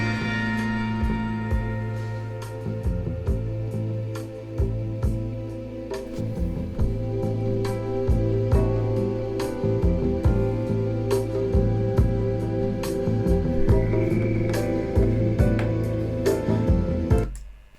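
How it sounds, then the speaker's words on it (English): Music sample from an old Italian horror movie plays alone: sustained low tones and layered melodic lines with recurring percussive hits, steady and moderately loud throughout. "I started this track with a sample. I think it's from an old Italian horror movie."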